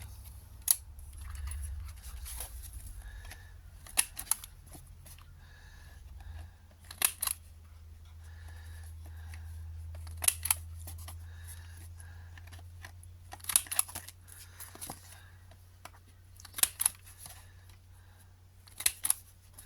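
Scissors round the corners of paper journal cards and tags made from piano sheet-music paper. Crisp, quiet snips come in short clusters spread through the passage over a low, steady background hum.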